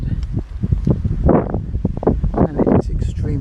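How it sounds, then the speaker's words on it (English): Strong gusty wind buffets a microphone outdoors near a church, producing loud, irregular low rumbling bursts and rustling throughout, with speech partly heard under the noise. "it's extremely windy today"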